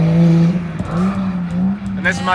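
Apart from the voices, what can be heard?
drift cars at nighttime drifting, Higashi course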